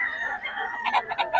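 Roosters and chickens at a chicken seller's in the Philippines, a close rooster crow followed by a run of rapid clucks and squawks, loud and busy within a brief moment.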